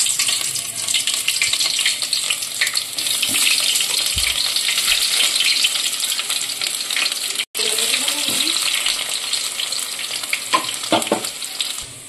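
Onions sizzle and fry steadily in hot oil for a mutton lau dal, a loud continuous crackle with brief stirring and clinking throughout.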